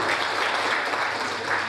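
Steady applause from an audience at a project launch event, continuous dense clapping filling the room without pause.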